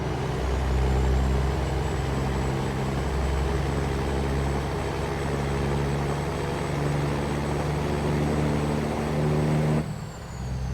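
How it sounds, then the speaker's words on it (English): A custom Peterbilt 389 hauling an oversized harvester load in a truck driving game, its diesel engine droning steady and loud with a deep rumble, then cutting down near the end with a hiss like an air brake release. "Ah, truck sounds so good."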